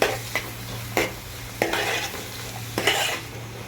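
Onions and green chillies are stirred in a pan with whole spices over a medium flame while making bagara rice. A spoon scrapes the pan at intervals over a low, steady sizzle, with no voices.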